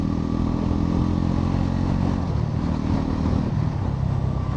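Bajaj Pulsar NS 400Z motorcycle (2025 model) being ridden, its engine droning loud and close with a steady rumble, then dropping in pitch midway as the rider downshifts, with wind noise throughout.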